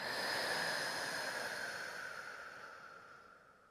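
A slow, steady exhale during a breathing exercise, a soft airy rush of breath that fades gradually over a few seconds, close but quiet, with no talking.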